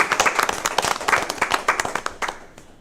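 Audience at a school district board meeting applauding to congratulate teacher Ms. Robinson, a short burst of close, distinct claps from a small group that thins and fades out by the end.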